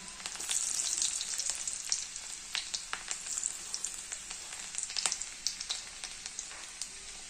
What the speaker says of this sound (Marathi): आधी आपण सर्वप्रथम लसूण परतून घेऊया